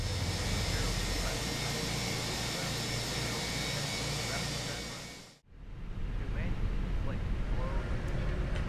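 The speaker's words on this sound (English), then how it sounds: "engine number 2 is coming online" Airliner jet engine spooling up during start in Microsoft Flight Simulator, a steady broadband roar that dips sharply to near silence midway and then rises again.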